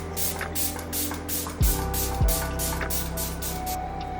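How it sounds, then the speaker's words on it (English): A milky toner face mist is sprayed in a rapid train of short, hissing pumps, close and clear, with a couple of soft thuds in between. "I really like the way that it sprays"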